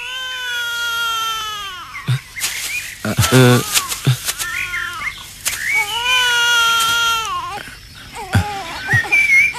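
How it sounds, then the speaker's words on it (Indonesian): A baby crying in an Indonesian television drama, a wailing cry with rising and falling harmonic tones repeated across the stretch, loud and close, broken by brief sharp bursts. "Apa kalian mendengar suara tangisan bayi?"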